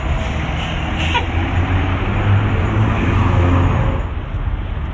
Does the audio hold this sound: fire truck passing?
yes